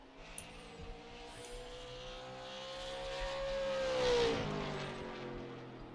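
A race car in an SLM championship race at Nashville drives a lap, its engine note rising and sweeping as it draws nearer and peaks, then fades slightly, heard alone.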